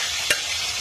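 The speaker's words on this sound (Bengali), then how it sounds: "দেখো এটা কড়ার মধ্যে দিয়ে নাড়তে হবে।" A quick scrape through taro paste frying in hot oil with black cumin in a wok, one short stir stroke over a steady close sizzle.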